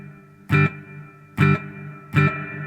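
A guitar amp's spring reverb setting on a cheaper amp. Three short, distorted guitar stabs ring out close and loud, each trailing into a brief, splashy reverb tail.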